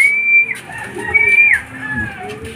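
A racing pigeon arrives at the loft during a club training flight, with soft cooing and whistling bird sounds up close, backed by a faint low hum.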